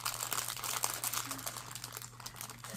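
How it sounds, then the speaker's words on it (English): A plastic treat bag crinkles softly and close as it is pinched closed and folded during a Halloween craft, a faint run of rustles with no talk over it. "you're gonna wanna pinch your bag closed a little bit. And it will kind of fold like that."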